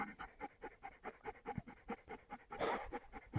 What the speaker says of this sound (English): If you hear any panting in the background, that's my dog.